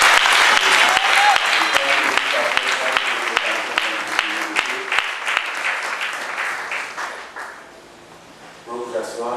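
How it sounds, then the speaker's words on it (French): A church congregation bursts into sustained, dense clapping that gradually thins and fades, with voices speaking over and after the applause. "Acclamez le Seigneur pour elle."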